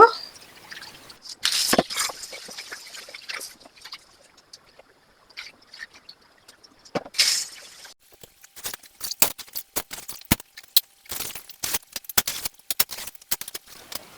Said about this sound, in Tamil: அந்த அரிசியோட நாங்கள் வறுத்த பயரையும் சேர்த்து நல்லா கழுவி தண்ணி வடிய விட்டு கொள்ளுவோம்